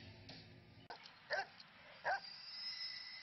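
A puppy gives a few soft, quiet yips and whimpers, separated by short pauses, over low background sound.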